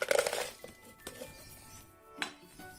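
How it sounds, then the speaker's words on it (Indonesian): Crushed yeast is tipped into a glass measuring cup while making liquid organic fertilizer, with a few light glassy clinks and taps, close and quiet, spaced irregularly over soft background noise. "Kita masukkan ke dalam gelas ukur."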